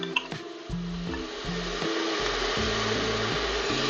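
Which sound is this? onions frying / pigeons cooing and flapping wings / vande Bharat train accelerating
onions frying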